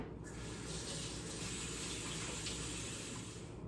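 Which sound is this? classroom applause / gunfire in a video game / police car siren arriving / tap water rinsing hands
tap water rinsing hands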